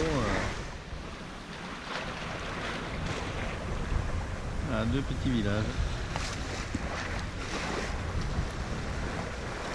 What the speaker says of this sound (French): là maintenant il y a 14 nœuds de vent, donc ça tient bien le bateau.